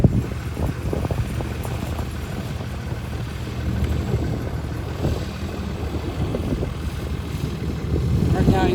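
Engine of a vintage rat rod riding mower running steadily, a loud low rumble that swells toward the end as it revs, with people talking over it.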